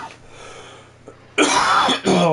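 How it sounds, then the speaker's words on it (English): A single person coughs and clears their throat loudly and close up, a harsh burst following a quieter stretch of low murmuring noise. "Oh god, I need to cough."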